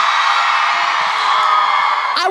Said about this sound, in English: Can I get some screams for Stu right here?